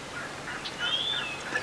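A wild turkey tom gobbles outdoors during strutting season, a rapid rattling warble at moderate distance rising briefly over quiet ambient background.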